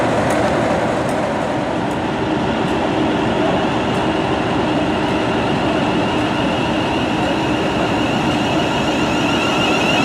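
Steady, loud rumble inside a moving passenger train approaching Crewe, with continuous rail noise and faint rhythmic clicks of wheels over track joints, no talking.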